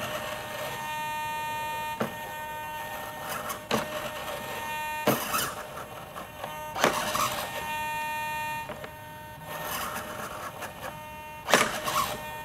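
A servo driven by a servo tester moves the spoiler of a scale ASH30 RC glider, giving short whirring bursts repeated at intervals of a couple of seconds over a faint steady hum.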